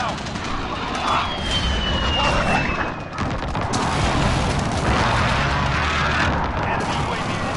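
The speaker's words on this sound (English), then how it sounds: "Enemy precision airstrike" Enemy precision airstrike explosions in a Call of Duty beta match: heavy, rumbling booms and blast noise that roll on steadily, with a brief dip partway through and mechanical battlefield clatter mixed in.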